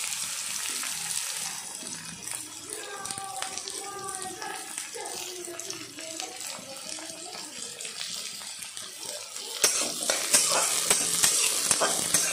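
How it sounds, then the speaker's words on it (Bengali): Chopped capsicum and onion stir-fried in a pan for pav bhaji, with steady sizzling and scraping stir strokes throughout, a louder burst of frying near the end. "এবার দিয়ে দেবো ক্যাপসিকাম কুচি"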